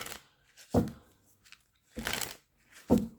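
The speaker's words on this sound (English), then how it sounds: "One more shuffle." A deck of tarot cards being shuffled by hand in three quick riffling bursts separated by short pauses, close and fairly quiet with no speech over it.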